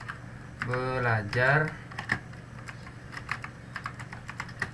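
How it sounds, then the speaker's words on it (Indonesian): Fast clicking on a computer keyboard in a Microsoft Word session, steady close key taps running through the whole stretch while someone speaks briefly near the start. "Cuma kalau ngetik manual seperti ini"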